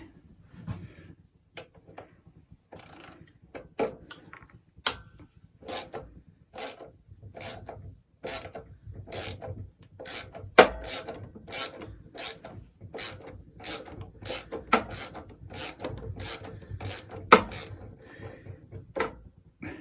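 A ratchet works an 11mm bolt on the E50 engine of a 1977 Puch Maxi S moped, giving quick, regular close clicking strokes in bursts over about twenty seconds with faint rubbing between them and no talking.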